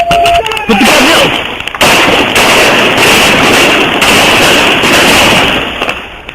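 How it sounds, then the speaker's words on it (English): Police gunfire at a woman during a standoff over a replica handgun, a dense burst of loud cracking shots at close range with a sharp onset, followed by sustained noisy reverberation and commotion. "Shots fired. Shots fired."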